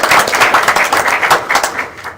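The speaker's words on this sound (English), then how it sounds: "So a round of applause for Wendy." Applause from a board meeting audience, a steady dense patter of many hands clapping at moderate loudness for about two seconds, with no talking over it.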